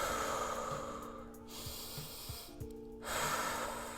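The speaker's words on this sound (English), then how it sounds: "Nice forceful breathing." Forceful breaths pushed out through the mouth during a beginner yoga and Pilates hip-opening flow, a few short, audible exhales and snorts close to the microphone over a steady background hiss.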